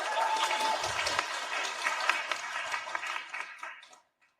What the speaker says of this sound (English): Please put your hands together and give her a warm round of applause